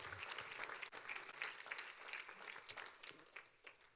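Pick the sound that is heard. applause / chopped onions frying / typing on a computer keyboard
applause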